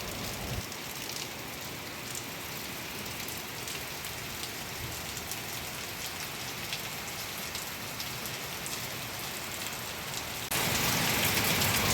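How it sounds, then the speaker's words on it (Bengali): Heavy rain from Cyclone Remal pours steadily, a dense even hiss of drops on surfaces that grows a little louder near the end, with no voices. "আর বৃষ্টি হচ্ছে, প্রচণ্ড বৃষ্টি হচ্ছে।"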